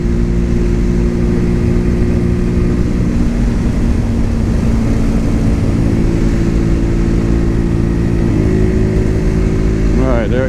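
A Cougar Vitacci XMT 250 motorcycle engine drones loud and close during a test ride, holding a steady revving tone with a pitch shift near the end, mixed with wind rush.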